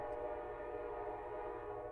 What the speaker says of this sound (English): That's a train that goes through town.